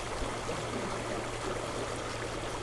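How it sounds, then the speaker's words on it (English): The As River flows past in winter, partly frozen at the edge, with a steady close rushing and hissing of water. "We are sitting by the As River."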